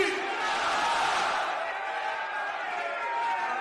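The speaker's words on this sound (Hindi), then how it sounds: "जोरदार तालियों के साथ सोनिया गांधी, सोनिया गांधी।" Sustained roar of a large outdoor crowd cheering and clapping for Sonia Gandhi at a Congress election rally, a dense, steady wash of noise with voices in the mix.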